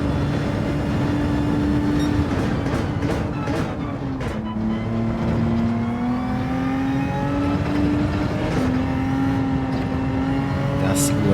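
Race car engine in Gran Turismo 7 revving hard through manual gear shifts, a loud, sustained drone that climbs, dips briefly at each shift and climbs again, with someone talking over it.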